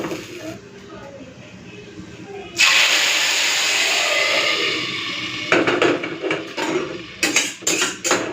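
Hot mustard oil tempered with dry red chillies and whole cumin is poured into a pot of khichuri, giving a sudden loud sizzling hiss that stays strong and then breaks into crackling bursts, with faint talk heard before the pour.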